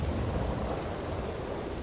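A thunderstorm in Red Dead Redemption 2 makes a steady, loud rushing of heavy rain with a deep low rumble underneath, continuous throughout with no voices.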